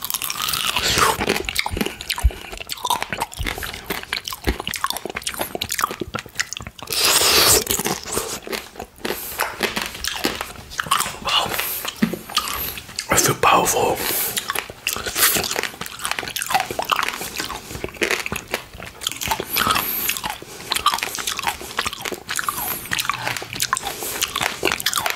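Crunchy tanghulu, candied mandarin orange pieces in a hard sugar shell, bitten and chewed up close, with loud crackling crunches and wet chewing that continue steadily throughout without talk.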